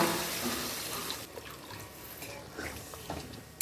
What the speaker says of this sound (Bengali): আলুটা খুব ভালো করে ভেজে নিয়ে এতে আমি পরিমাণ মতন জল দিয়ে দিলাম